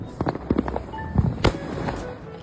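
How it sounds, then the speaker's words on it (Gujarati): Diwali firecrackers popping outdoors, several sharp cracks and bangs in quick, irregular succession, one louder blast standing out. "જો બાજુ ફૂટ્યો ને તો"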